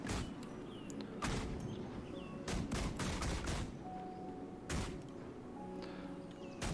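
Bursts of pistol fire from the Baleful Dragon pistol in Guild Wars 2, several quick volleys of shots with impacts and game effects, loud and close, with quieter gaps between.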